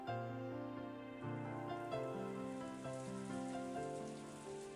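Soft rain falls as an ambient effect in the visual novel Umineko When They Cry, a quiet continuous patter beneath gentle sustained music notes, with no one speaking.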